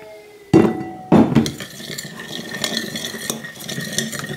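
Chili powder being stirred into a little warm water for kimchi sauce, a utensil clinking twice against a bowl up close, then a steady soft scraping stir that carries on without any talking.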